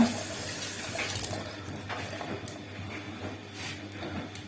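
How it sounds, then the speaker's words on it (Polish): Sonic facial cleansing brush (Garett Beauty Clean Pro) rinsed under a running bathroom tap, a steady faint wash of flowing water with small clinks and splashes throughout. "Teraz ja sobie oczyszczam pod wodą i to tyle."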